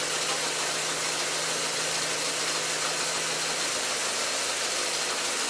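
A car engine running on a natural gas to hydrogen conversion idles steadily, a constant close drone with a low hum that eases off slightly partway through as the fuel changes over, with no voices.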